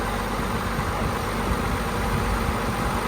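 DAF diesel engine fitted into a T-170 crawler tractor, running steadily at close range, a dense continuous rumble and clatter with no break and no talking over it.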